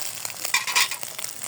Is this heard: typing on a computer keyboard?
no